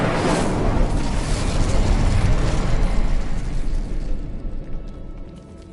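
Incendio fire spell from Hogwarts Legacy erupting in a loud, roaring fiery blast that rumbles for several seconds before gradually fading, close and dominant with no talk.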